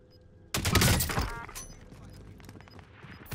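A sharp, loud sniper shot in Call of Duty Warzone cracks out and rings off into a decaying tail, followed by fainter clatter and a few small later impacts.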